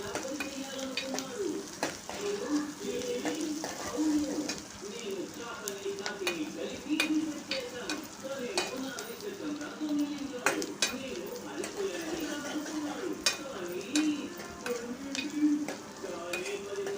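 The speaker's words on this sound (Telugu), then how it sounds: "ఇప్పుడు ఉల్లిగడ్డలు పచ్చిమిరపకాయలు వేగిపోయినాయి కదా" Onions and green chillies fry in a pan with a continuous close sizzle, broken by steady stirring scrapes and a few light utensil clinks, under a faint murmur of voices.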